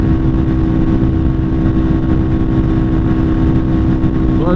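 A Lifan KPR 200 motorcycle engine running close and loud: a continuous, steady mechanical drone with a rough low throb and no pauses.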